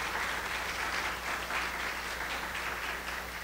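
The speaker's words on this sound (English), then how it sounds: "Let's give her another round of applause." Conference audience at a terrestrial ecology workshop in the Marianas gives a speaker a round of applause, moderate steady clapping heard from a slight distance over a low background hum.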